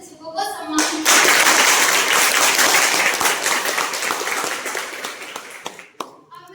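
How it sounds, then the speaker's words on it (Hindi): An audience at a Teachers Day celebration in a government polytechnic college in Unnao claps together after a brief spoken announcement, a loud, sustained burst of applause that slowly tapers off over about five seconds. "आइए तालियों की गड़गड़ाहट से हम सब मिलकर अपने शिक्षकों को सम्मान करें।"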